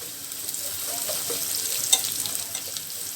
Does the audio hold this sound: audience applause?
no